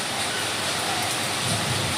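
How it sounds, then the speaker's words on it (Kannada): A downpour of heavy rain makes a constant, even hiss close by, dense and unbroken throughout the short stretch. "ಏನು ಕಾಣಿಸಲ್ಲ, ಅಷ್ಟು ಜೋರಾಗಿ ಮಳೆ ಬರ್ತೈತೆ."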